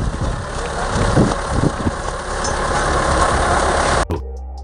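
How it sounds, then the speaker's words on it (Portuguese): Tractor engine rumbling steadily on a farm in southern Brazil while dragging a freshly slaughtered giant wild boar, a low continuous drone with wind buffeting the microphone, cut off abruptly near the end. "esse fazendeiro mostra um enorme javali sendo arrastado por um trator logo"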